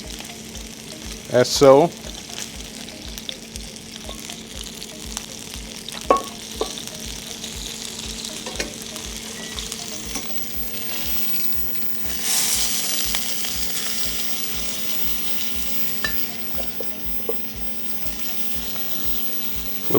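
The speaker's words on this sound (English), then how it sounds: "Nice baste. It only takes a few seconds in the skillet." Glazed salmon sizzles and fries in a skillet while being basted, giving a steady crackling hiss with occasional louder spatters and clinks and brief speech.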